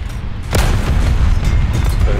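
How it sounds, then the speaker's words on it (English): A T-26 tank in War Thunder ground battle fires a high-explosive shell, one loud, heavy boom that rolls into a sustained rumble. "Just keep shooting high explosives."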